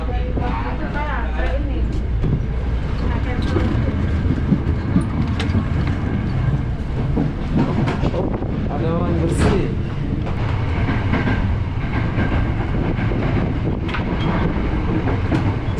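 KRL commuter train in Jakarta carrying passengers between Tanah Abang and Sudirman, with steady close rumble and rail noise filling the whole stretch while people talk inside the car.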